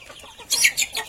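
Chickens from a broiler and free-range village (ayam kampung) cross cluck in a few short bursts, fairly close and clear, with no talk over them.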